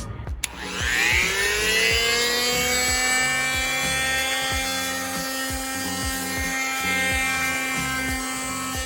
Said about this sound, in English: now I am going to keep sanding. I'm gonna sand the sides.